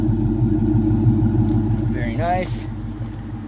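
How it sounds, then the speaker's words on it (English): A 2007 Dodge Charger R/T with a Hemi V8 and dual exhaust idles with a loud, steady low rumble throughout, while someone speaks briefly partway through. "Give you a little sound of the idle here."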